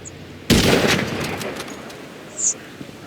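A single loud gunshot in the video game GTA V, fired on a mountain, bursts out sharply and rings into a decaying tail, with a smaller thump following a couple of seconds later.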